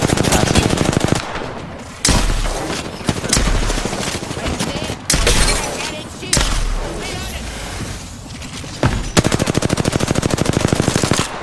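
Bursts of automatic weapon fire in the shooter game Apex Legends, loud rapid rattling volleys broken by short gaps and single sharp shots, with game effects between bursts.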